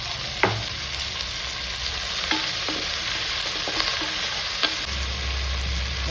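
Onions sizzle and fry steadily in a pan, with a few sharp clinks of a spoon stirring against the metal; no one speaks.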